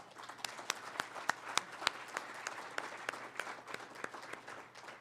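Sustained audience applause at an industry forum fills the room, a dense wash of many hands with sharper individual claps popping out throughout, fairly distant and steady.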